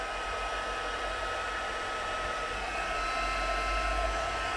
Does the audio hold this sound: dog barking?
no